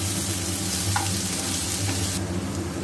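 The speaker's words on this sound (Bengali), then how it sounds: "এখন আলু আর পেঁয়াজ একটু ভাজা ভাজা করে নেব।" Potato and onion frying in hot oil in a pan for a Bengali rice dish, a continuous close sizzle with faint stirring scrapes, loud and steady, no talking.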